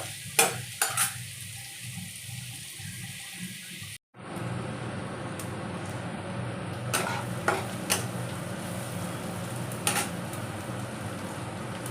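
Onions frying and being stirred in a pan for katla fish chops: steady sizzle throughout, with a short break near four seconds and clinks of the spoon against the pan now and then.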